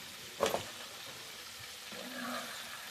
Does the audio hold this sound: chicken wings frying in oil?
yes